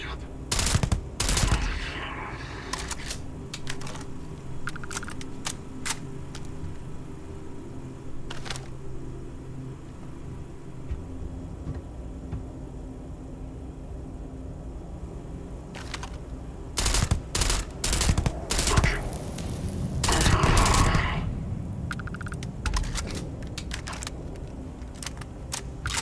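Gunfire in the video game Starfield: loud bursts of automatic fire and single shots come in irregular clusters, heaviest near the start and again later, over a low background rumble.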